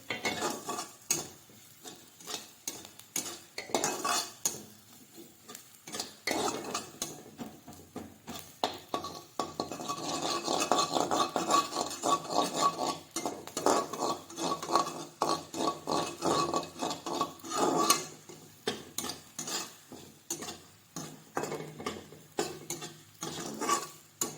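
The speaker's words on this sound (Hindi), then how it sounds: "पहले इसे अच्छे से रोस्ट होने देती हूँ फिर।" Spices stirred and roasted in a hot pan with a spoonful of turmeric, giving a steady scraping and clinking of a spoon against metal over a soft sizzle, continuous and close with no talking.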